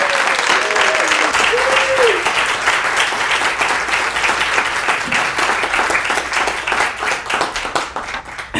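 A lecture audience breaks into loud, sustained applause for a professor, many hands clapping densely and steadily, with a brief vocal cheer early on before the clapping thins slightly toward the end.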